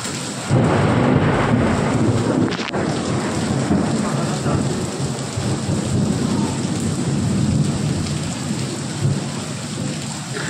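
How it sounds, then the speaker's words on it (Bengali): Heavy thunderstorm with torrential rain pouring steadily throughout, a dense continuous roar with rumbling thunder layered in and a sharp crack near the middle; no voices. "এমন বাজ পড়েছে, ভরপুর অন্ধকার, কারেন্ট আমাদের চলে গেল।"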